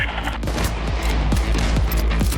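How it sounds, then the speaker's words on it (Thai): Rapid bursts of gunfire in the heist shooter Payday 2, loud and close, with overlapping shots rattling in quick succession throughout. "ใครยิงวะ"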